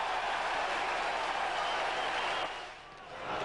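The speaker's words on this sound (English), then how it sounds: "something at last for the travelling fans to cheer about" Travelling football fans at an old First Division league match cheer as a quick free kick from Ian Crook puts Norwich ahead against Queens Park Rangers; a broad, continuous crowd roar that dips slightly near the end.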